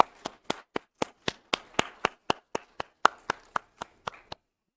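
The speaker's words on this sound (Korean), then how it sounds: "하나님께 먼저 감사와 영광의 박수 한번 올려드립니다" A church congregation claps in unison during a Wednesday worship service, about sixteen crisp, evenly spaced claps that stop abruptly, with no talking over them.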